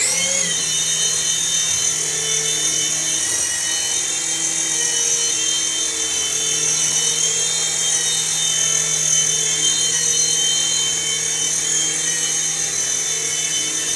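A beginner RC helicopter lifts off and flies, its rotor and small motor giving a steady, loud high-pitched whine with a continuous buzz throughout.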